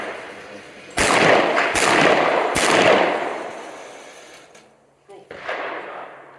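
Handgun shots at a tactical shooting drill: three sharp, loud reports in quick succession, each followed by a long ringing tail, with a pause before a quieter burst of noise near the end.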